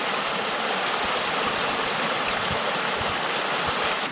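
Creek water at Duck Creek flows steadily at a road crossing, a continuous, even broadband rush with no voices.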